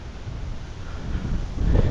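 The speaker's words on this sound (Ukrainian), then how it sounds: "саме починається вітер зривається" Gusty wind ahead of a thunderstorm buffets the microphone, a low rumbling roar that swells and grows stronger toward the end.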